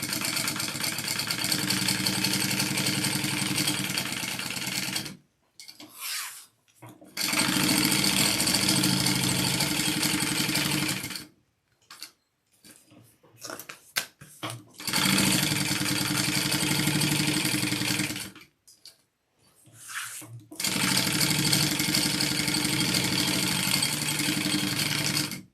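A domestic sewing machine stitches light fabric layers in long, steady runs of buzzing motor whir, stopping and starting four times with near-silent pauses between, close and loud.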